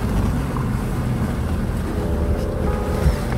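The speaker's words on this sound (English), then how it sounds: "if you can hear that the engine revs are climbing a little bit, it's just telling you how steep the hill is" An off-road vehicle climbs a steep hill, its engine revs rising under a continuous rumbling drone with wind buffeting the microphone and faint voices in the cabin.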